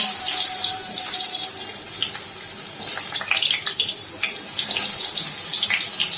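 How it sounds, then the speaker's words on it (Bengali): Potato pieces dropped into hot oil in a pan for a Bengali chicken curry, giving a steady bright sizzle and crackle that runs loud and continuous throughout. "এই তেলের মধ্যে আমি আলুগুলো দিয়ে দেবো।"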